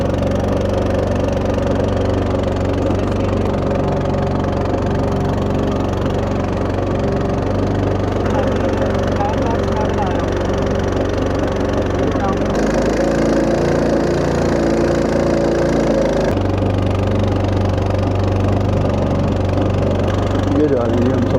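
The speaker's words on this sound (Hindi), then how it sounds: "ये स्टार्ट हो गई जी हमारी बोट।" A small boat's engine on Katora Lake in Swat runs at a steady idle, a loud, close mid-pitched mechanical chug with a slight change in tone partway through, heard on its own.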